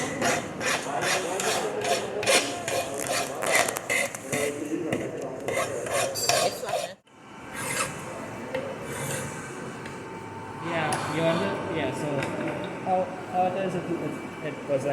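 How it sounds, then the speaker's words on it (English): A hand file rasps across metal workpieces for a bench vise in a machining workshop, repeated rhythmic strokes, close and fairly loud, breaking off briefly halfway through and then starting again. "We then filed each workpiece to smooth off any roughness to allow for an ideal presentation of the bench vise"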